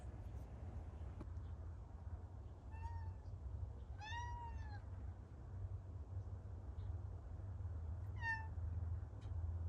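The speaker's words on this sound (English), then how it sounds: "If you're wondering if you heard a cat, you did." A pet cat named Vincent meows three times, moderately close, with short rising-falling cries spaced across a quiet room with a low background hum.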